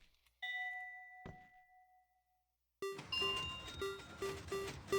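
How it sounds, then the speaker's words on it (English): Minecraft redstone roulette wheel chimes ring out as clear electronic ding tones with a soft thunk, then a quick run of bright repeated note blips sounds as players get their own individual chimes, close and alone without talk. "And you heard they had their own individual chimes."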